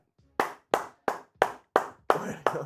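Sharp, close handclaps ring out in a steady rhythm, seven distinct claps about a third of a second apart, each with a short decay, loud and isolated against a quiet background.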